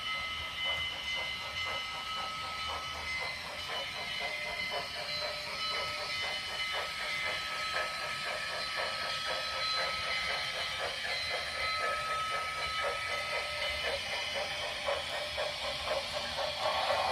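A Trix Big Boy model steam locomotive (Trix 23951) shunting gives off a continuous hiss with a faint, rapid rhythmic chuffing and a thin high whine, quiet and steady throughout with no voices.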